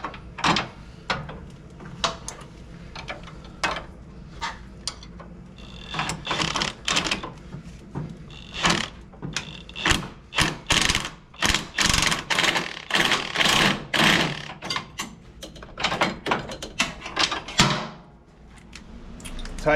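Wrench work tightening a lock washer and nut on a riding mower under repair, heard as close, busy metallic clicks, ratcheting and clanks in quick irregular bursts, with a louder flurry of rapid clatter toward the end.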